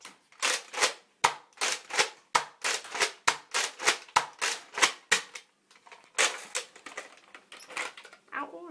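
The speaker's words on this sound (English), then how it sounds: "So that was the Alpha Trooper CS." Nerf Alpha Trooper CS blaster firing darts, a rapid run of sharp plunger clacks and whooshes in an uneven rhythm, pausing briefly, then a second burst of shots, close and clear with no talking.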